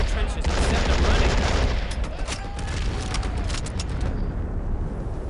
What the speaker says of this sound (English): Finally, with this kind of artillery, we can blast the Germans from their trenches and send them running.